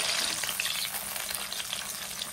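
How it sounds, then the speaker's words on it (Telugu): Cut eggplant pieces fry in hot oil in a pan, giving a loud, steady, close sizzle that crackles without pause and has no talk over it. "ఇందులో మనం కట్ చేసి పెట్టుకున్న వంకాయ ముక్కల్ని కూడా వేయాలి. వంకాయ ముక్కలు ముందుగా మగ్గనివ్వాలి."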